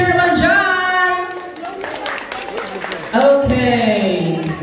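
Clapping and cheering from a small group at a birthday celebration as the candle is blown out, mixed with singing voices and excited talk, with a louder burst of applause near the end.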